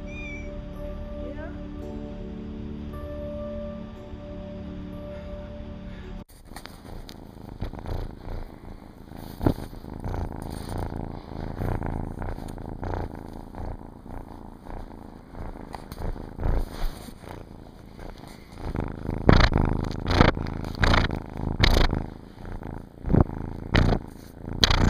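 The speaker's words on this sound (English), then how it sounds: "Purr, Helios, purr." A ginger kitten purrs steadily while riding on a person's shoulder in a pet store, a close low rumble running throughout, with a person talking over it and occasional louder rustles toward the end.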